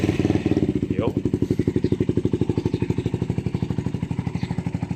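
A 2023 KTM Duke 200 V2 motorcycle idling just after a one-click start, fitted with a silencer; close, steady rapid engine pulsing with a brief rev bump near the start, and no talk over it.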